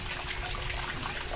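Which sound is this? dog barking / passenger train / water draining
water draining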